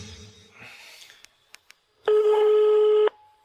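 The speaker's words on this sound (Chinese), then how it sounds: "您好，您拨打的电话正在通话中。" A phone call placed to a busy line: a few faint clicks, then a single loud, steady busy tone lasting about a second, with low background noise at the start.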